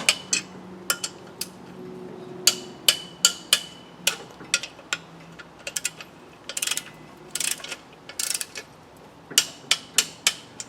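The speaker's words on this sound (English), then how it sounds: "We've set our torque wrench at 25 pounds or 34 Newton meters, and we're going to tighten these up diagonally opposite" Torque wrench tightening clutch bolts on a 4-cylinder Land Rover Defender clutch, a series of sharp metallic clicks and clacks in irregular clusters, close-up over a quiet workshop background.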